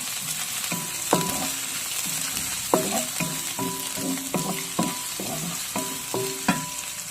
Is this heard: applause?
no